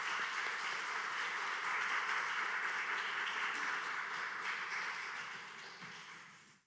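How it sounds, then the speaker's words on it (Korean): A church congregation at a Wednesday teacher-dedication service applauds warmly to welcome the preacher, steady dense clapping that holds for several seconds and then fades out. "우리 강사님 나올 때 뜨거운 박수로 영접합니다."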